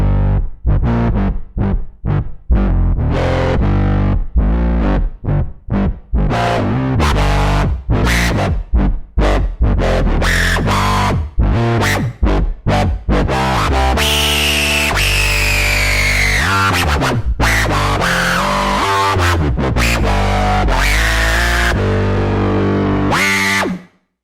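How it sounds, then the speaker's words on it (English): A stock Sylenth squelch bass lead synth plays loud, distorted, choppy notes that begin in short stabs and then turn into longer sustained, gliding tones, ending abruptly. "It's actually a lead sound that comes stock with Sylenth."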